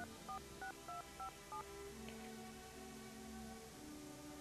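A telephone is dialed as a quick series of about five short touch-tone beeps, quiet and close, followed by faint background hum.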